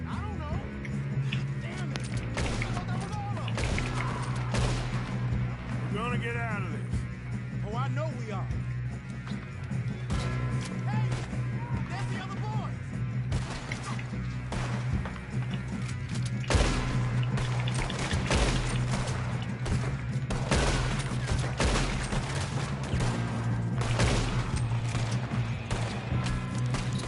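Western-style gunfire in Red Dead Redemption 2, a fusillade of shots and crashes over a steady low hum, with game characters' voices talking through much of it.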